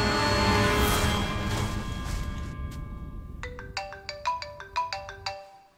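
Mobile phone ringtone for an incoming call, a bright repeating melodic tune of short tones near the end, following a louder swell of sound, with no talking.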